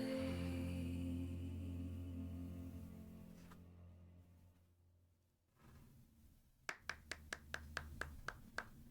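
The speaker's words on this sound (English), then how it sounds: "Applause, applause, applause." Applause from a small audience breaks out after a piano piece played in a room, a quick burst of sharp, closely spaced claps standing out above a low, steady hum.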